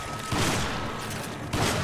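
Gunfire in Resident Evil 5, two dense bursts of shots close together, each with a sharp attack and a rough rumbling tail, heavy and loud with no talk.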